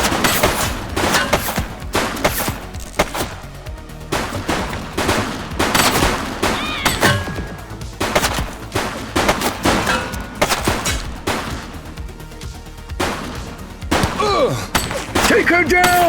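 Gunfire in the police game The Precinct, with repeated bursts of rapid shots and sharp cracks across the whole stretch, loud and close, with occasional shouted voices mixed in.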